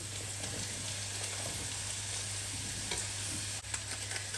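Sliced courgette and pepper added to a pan of softened onions, frying with a continuous soft sizzle and occasional stirring scrapes, fairly quiet and steady with no talking.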